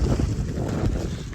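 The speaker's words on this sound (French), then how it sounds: "Je sais même pas si vous m'entendez à cause du vent qu'il y a." Wind buffets a microphone outdoors in Normandy on a sunny day after rain, a steady low roaring rumble that fills the whole clip with no other clear sound.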